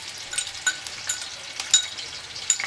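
Chopped onions fry in hot oil in a pan for Chinese chicken pulao, giving a soft, steady sizzle broken by small irregular pops and crackles, close by with no talking.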